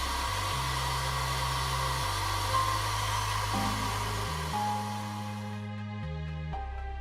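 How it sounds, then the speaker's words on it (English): A hair dryer blows steadily and loudly onto pigment on metal model tank tracks, a continuous whooshing hum with a shifting low motor tone, running without pause. "Use hairdryer to quickly dry the pigment job."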